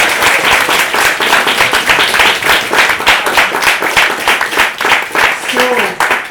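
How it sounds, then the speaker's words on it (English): A full audience at an Edinburgh Fringe comedy show breaks into loud, sustained applause, dense clapping filling the whole stretch with a brief vocal cheer near the end. "But a huge round of applause."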